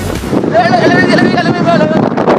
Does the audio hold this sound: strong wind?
yes